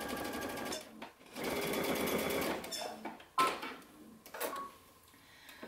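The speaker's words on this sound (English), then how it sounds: "gonna go back to my sewing machine and I'm gonna stitch this following the stitching that's already on my shoulder" Sewing machine stitching along a shoulder seam of a garment, a close rapid needle chatter in two bursts, then stopping for quieter handling clicks and a short final run.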